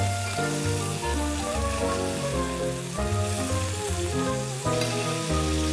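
A marinated halibut fillet sizzles in a grill pan, a steady, moderate frying hiss beneath music that plays throughout.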